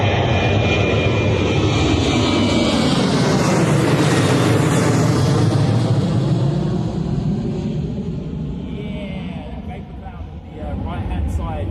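An airliner in holiday livery takes off at Bristol Airport with a loud, roaring jet engine sweep that rises to a peak and then rumbles away into the distance, while voices talk over it.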